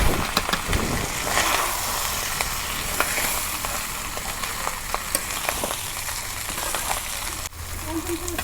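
Rice frying in a pot for village-style home-cooked chicken biryani, a continuous close sizzle with small crackles and the occasional scrape of stirring, steady and moderately loud throughout.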